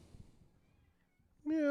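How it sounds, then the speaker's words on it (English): A house cat lets out one loud, drawn-out meow at the very end, following faint, quiet murmuring and room sounds. "Here's the cat."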